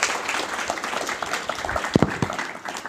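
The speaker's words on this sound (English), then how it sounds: "round of applause." Applause from an audience at an awards ceremony, a fairly quiet, scattered patter of clapping with a few sharper claps standing out near the end.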